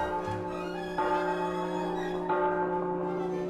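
A microwave oven finishes heating a burrito with three clear bell-like chimes, evenly spaced about a second apart, ringing out and decaying over a steady background hum.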